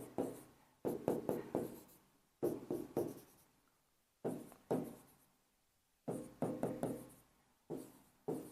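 A marker squeaks and scratches across a board in short clustered strokes separated by pauses, close and fairly quiet, each burst of quick lines fading before the next.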